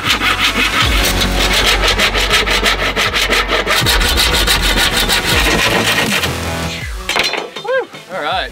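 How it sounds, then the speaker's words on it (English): A saw cuts steadily through a sheet of plywood, halving it while a minivan camper is being built. The strokes are loud, close and continuous for several seconds, then stop, leaving a few scraps of handling noise. "All that's left to do is cut the sheet of plywood in half and then anchor the cabinet."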